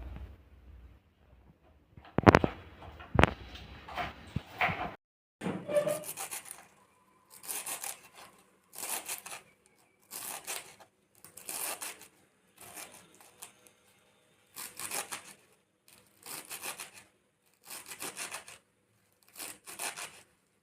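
Tender amaranth greens with their stems finely chopped by knife on a board for a poriyal, a close series of rhythmic chopping bursts at a steady pace after a few scattered knocks, no talking.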